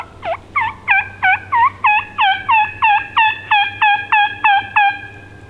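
Wild turkeys gobble loudly and close by in a rapid series of about a dozen bursts, each a quick rattling sweep, with a low steady hum underneath and no talk.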